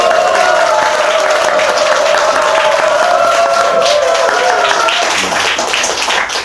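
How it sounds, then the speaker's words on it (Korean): An audience at a Korean forum on peace and security seen from Kazakhstan gives a steady round of applause, dense continuous clapping that fills the room and fades slightly at the end. "두 분께도 저희 감사의 박수 한번"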